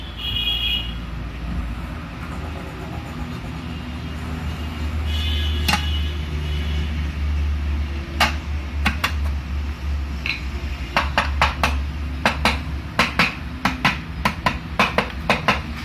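A gearbox cover is fitted onto a Bajaj Discover 125 engine: a steady low hum runs throughout, then a run of sharp metallic taps and clicks comes in the second half, with no talking.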